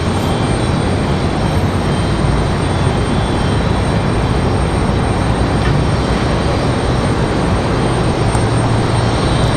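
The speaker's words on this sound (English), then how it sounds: "here we go, our FedEx ATR" A FedEx ATR turboprop arriving at Raleigh-Durham International drones with a steady, fairly loud propeller and engine roar, continuous and unbroken, with no voices.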